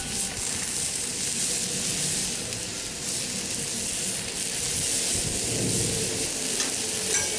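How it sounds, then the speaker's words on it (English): Onions, carrots and broccoli sizzle steadily on a hot Blackstone flat-top griddle, a continuous close frying hiss with occasional stirring scrapes and no talking. "I'm going to put my onions and carrots on because they're going to take a little bit longer than everything else"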